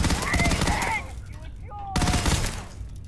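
Gunfire in the video game Starfield, rapid bursts of loud, dense shots close by, pausing briefly amid whistling sci-fi effects and then resuming, heard under a speaking voice.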